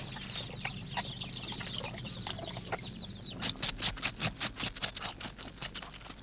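Chickens on a farm cluck and chatter in a steady farmyard murmur, then a run of sharp, rhythmic clucks or pecking taps comes in close and loud near the end.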